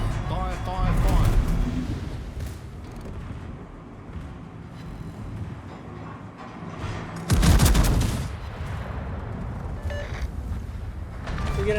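Battleship Collingwood's guns fire in a naval video game, heavy booming salvos under continuous battle noise and voice commentary, with a loud blast cluster around the middle.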